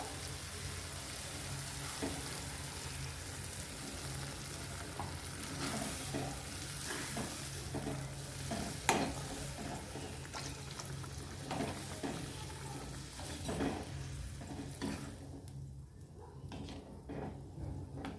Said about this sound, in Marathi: आता आपण ह्याच्यात पाणी टाकून घ्यायचं आहे आपल्याला